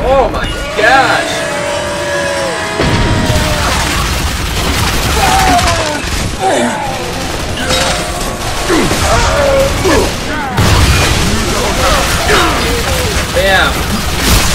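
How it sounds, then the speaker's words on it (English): Loud explosions and booming bursts in the video game Bulletstorm crash over a continuous electronic soundtrack, arriving in several heavy waves while someone talks excitedly. "All those explosions!"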